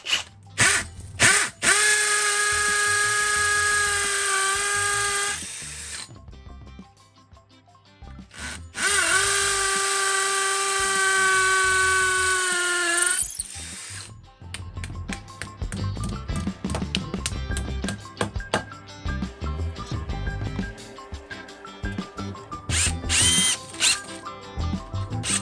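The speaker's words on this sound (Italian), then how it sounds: "mia moglie ha sentito il rumore del trapano" A Bosch electric drill whines in two long bursts separated by a brief pause while drilling into a wall, followed by rattling, clattering tool noise.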